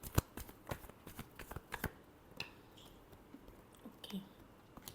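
Tarot cards are shuffled by hand in quick, close, soft riffling bursts that come in uneven clusters, with a brief pause near the middle before a few final flicks.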